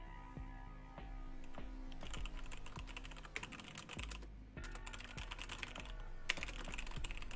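Rapid, steady typing on a computer keyboard during a tabletop D&D game session, with dense clicking keystrokes that run continuously, close and fairly loud, with a couple of brief pauses.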